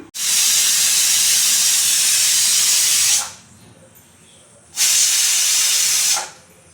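A pressure cooker holding bitter gourds vents steam in two loud, close hissing bursts: a long one of about three seconds, then a shorter one after a brief quiet gap.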